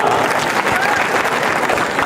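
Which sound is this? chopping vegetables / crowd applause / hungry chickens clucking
crowd applause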